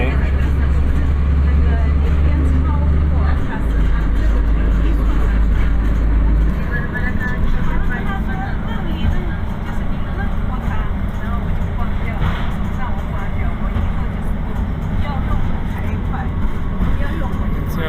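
Road traffic rumbling across the upper road deck of the 25 de Abril bridge at Almada, with trains running on the lower deck, heard as steady loud broadband roar with heavy low rumble throughout, while a voice talks over it.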